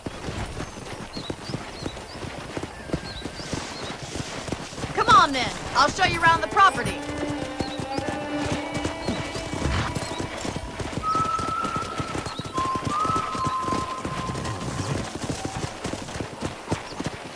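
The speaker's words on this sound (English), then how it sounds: "I picked out a fine horse for you." A horse in the PC game Red Dead Redemption plods along in a steady clip-clop of hooves, with a neigh partway through and other game sounds around it. A voice speaks over the hoofbeats.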